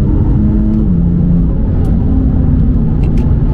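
BMW M4 CS with a decatted, metallic-toned exhaust revving while driving on a small, bumpy road; a steady loud engine drone with a shifting pitch, close and continuous throughout.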